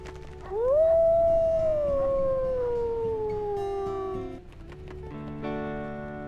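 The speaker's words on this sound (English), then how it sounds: "Oh, the sweet howl!" Wolf pups in a video game let out a long, rising-then-falling howl, clear and close, with fainter overlapping howls and game ambience beneath and more yips and calls joining toward the end.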